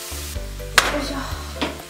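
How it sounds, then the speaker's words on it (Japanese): Pre-cooked rice tipped into a hot pan and stir-fried with meat and onion: a low sizzle under a steady stove hum, with two quick scraping stirs of the spatula against the pan. "あらかじめ炊いておいたご飯を入れます"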